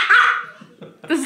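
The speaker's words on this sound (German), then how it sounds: "Was war denn das für ein Bellen eben?" A dog barks once in a drawn-out, whiny bark, followed by a couple of softer yips nearby indoors.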